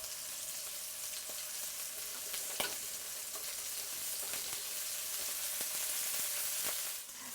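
Seafood searing in a hot pan for Thai dry tom yum, a steady close sizzle and crackle running throughout with a few sharper pops, no talking.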